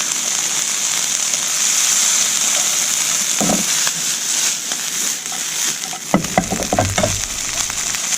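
Prawn heads frying in a pan, a steady loud hiss of bubbling oil that runs throughout, with a few brief clatters of stirring near the end.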